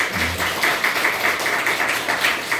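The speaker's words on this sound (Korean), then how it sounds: "우리 환영의 박수 한번 하겠습니다" A church congregation gives welcoming applause: a steady, dense wash of many hands clapping at once, moderately loud and evenly sustained for a few seconds, with no voices standing out.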